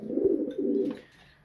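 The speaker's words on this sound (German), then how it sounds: "So, wir sind jetzt hier im Zuchtschlag 2. Ich habe gerade die Tauben gefüttert." Pigeons coo in a breeding loft just after feeding: a close, low, throaty coo rolls for about a second, then fades out, with a faint higher chirp at the end.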